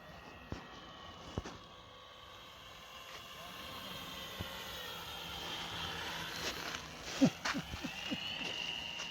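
Airplane passing overhead on New Year's Eve in Iceland, a steady broad engine roar that builds slowly across the clip, with faint voices and a few small knocks nearby.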